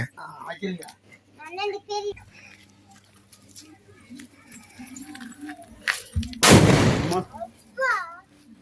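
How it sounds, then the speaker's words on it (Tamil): A loud country firecracker from a Valangaiman fireworks shop bursts once with a sharp broadband blast, set among people chatting and calling out before and after. "அடுத்தது இந்த வெடி பார்க்கலாம் எப்படி இருக்குன்ட்டு"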